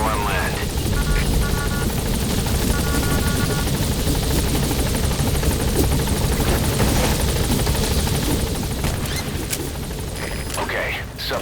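A military helicopter in Metal Gear Solid V: The Phantom Pain roars loudly and steadily through the whole stretch, a dense rotor and engine wash with faint radio-like beeps and mechanical clatter mixed in.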